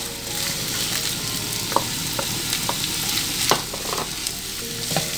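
Small cubes of veal browning in a pan with onions, a steady moderate sizzle with occasional crackles and pops throughout.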